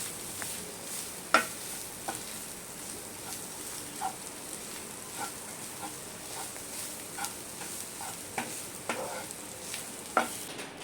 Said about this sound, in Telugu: ఇవన్నీ వేసిన తర్వాత పచ్చివాసన పోయే వరకు ఫ్రై చేసుకోండి